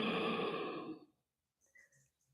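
A long, audible exhale during a yoga session: a breathy sigh that tapers off after about a second, followed by faint soft sounds in near silence.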